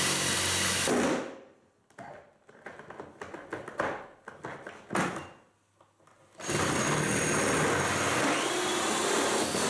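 A power drill fitted with a hole saw bores through the wall of a home-built brewing boiler, loud whining bursts that stop and start between quiet gaps, then a long steady grinding run.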